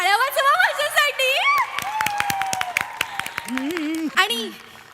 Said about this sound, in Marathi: टाळ्या वाजवा माझ्यासाठी.